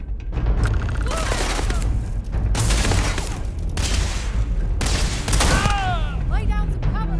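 Bursts of rapid gunfire from the Starfield space video game rattle in long sustained volleys with brief gaps between them, loud and close, while game voices talk over the shooting.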